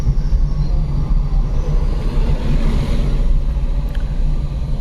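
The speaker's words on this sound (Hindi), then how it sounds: "एक मिनट साइड दे दूं मैं, गाड़ी एक आ रही है।" A vehicle approaches on a forest road during a night drive in Jim Corbett Tiger Reserve, heard as a steady, fairly loud low engine rumble that holds throughout with no talk.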